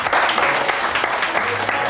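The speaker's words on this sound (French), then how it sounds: "on leur applaudit" A television studio audience claps steadily, a dense, continuous round of applause filling the short moment with no pauses.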